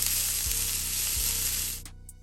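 Seasoned fajita vegetables sizzle steadily in a hot skillet, with a couple of soft knocks as they are tossed, before the frying noise drops away near the end.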